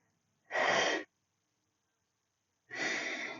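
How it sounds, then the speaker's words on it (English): Two sharp, forceful exhalations during overhead press exercise, each a short loud burst of breath about half a second long, separated by a quiet pause. "It's all about that forceful breathing at the end."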